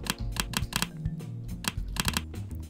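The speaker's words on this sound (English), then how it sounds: "That typing is very loud." Loud, close computer keyboard typing in a startup-building game: rapid bursts of sharp key clicks in irregular clusters, with brief pauses between runs and no talking.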